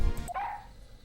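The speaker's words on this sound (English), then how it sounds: "what an energetic little puppy" A puppy in the Ace Attorney video game lets out one short, bright yip after a brief thump, clear and alone against a soft background hum.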